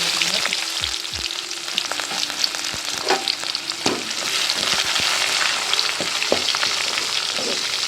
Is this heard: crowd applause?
no